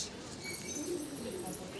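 Kaldom pigeon cooing softly at close range in a short burst, with a faint background hiss.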